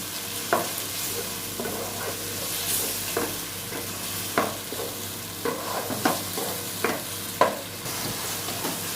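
Chopped tomato frying and roasting in a pan for a masala, with a steady sizzle broken by repeated scraping stirs at an uneven rhythm, close and moderately loud, with no talking.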